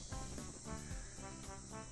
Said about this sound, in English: Damn cicadas.